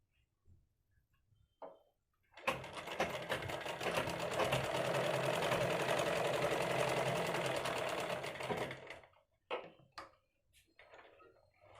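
A sewing machine stitching kurti fabric along the seam margin runs in one continuous, loud, whirring burst of about six seconds, framed by a few short clicks and handling noises before and after.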